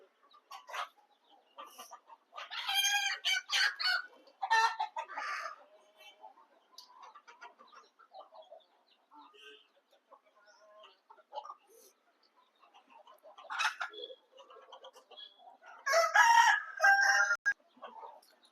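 A rooster crows in a few loud bursts while hens cluck and squawk in between, fairly close, with quieter stretches of scattered clucking.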